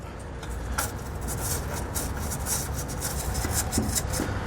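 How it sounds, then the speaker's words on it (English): A wire brush scrubs out weld nut holes in a truck bed frame during a fifth wheel hitch install, a continuous close rasping scrub with no talk. "And then I'm going to take a wire brush here. We're just going to clean those out as best as we can."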